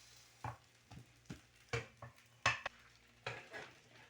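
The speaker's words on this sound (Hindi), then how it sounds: "चलिए मैं अब इसको थोड़ा सा टर्न करके सेक लूँ, गोल्डन कर लूँ हल्का सा" A cheese bread sandwich being turned and toasted in a pan: a quiet series of sharp scraping and clinking taps from a spatula against the pan, about nine irregular strikes over a soft background, with no talk.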